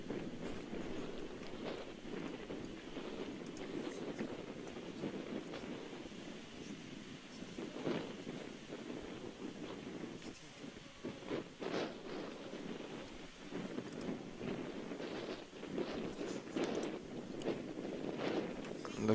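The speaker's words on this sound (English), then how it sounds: "As you can see from the flag, the wind is pretty strong" Strong gusty wind buffets the microphone outdoors on a disc golf course during a tournament round, a continuous rushing roar with a commentator speaking over it.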